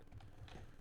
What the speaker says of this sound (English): that's just me typing bad